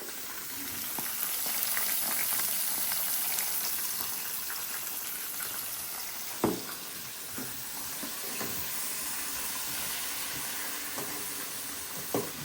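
Meat sizzles and bubbles steadily in hot mustard oil with fried onions, a constant close hiss with a few sharp pops and clatters from the pot.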